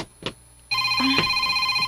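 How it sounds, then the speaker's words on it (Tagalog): A cellphone rings with a steady electronic tone that begins partway in, after a short knock, and keeps going to the end. "Imong cellphone, Miss Maita."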